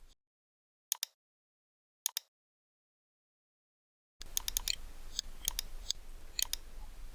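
Crisp computer mouse clicks, two isolated single clicks in near silence followed by a busier run of quick clicks over a low background hiss.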